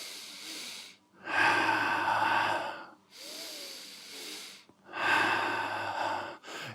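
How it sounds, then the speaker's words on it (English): Heavy, close breathing for running alternates long loud breaths in and out in a steady two-in, two-out pattern, with brief quiet gaps and no talk. "The most common breathing rhythm is in two and out two."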